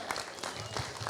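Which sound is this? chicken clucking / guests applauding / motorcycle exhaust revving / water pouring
guests applauding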